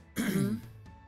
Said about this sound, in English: I had to clear my throat the exact same time.